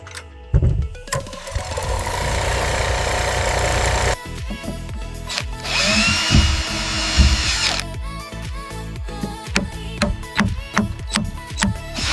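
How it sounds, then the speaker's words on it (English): A power drill whirs close by in a long sustained run while building a wooden frame, stops, then returns in a second burst and a series of short, choppy pulses. "First I use the drill."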